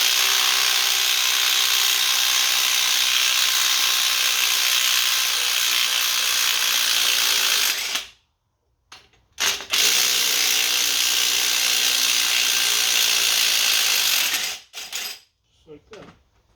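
Ratcheting brake caliper piston compressor tool on a Pontiac Vibe, a loud continuous rapid clicking that runs alone for several seconds, stops briefly, then resumes before cutting off near the end.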